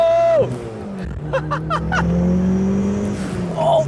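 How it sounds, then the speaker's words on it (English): A sharp turbo blow-off valve vents on a Mitsubishi Eclipse GSX running about 18 pounds of boost, with a quick chattering flutter over the loud engine as it drops off and then drones on. "Oh, listen to that blow off!"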